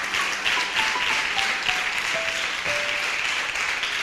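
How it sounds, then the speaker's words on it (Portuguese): Audience applause during a Portuguese-language Catholic sermon on Saint Augustine, a dense steady wash of many hands clapping at even loudness throughout, with faint tonal sounds drifting underneath. "Vamos aplaudir isso, que isso é lindo demais."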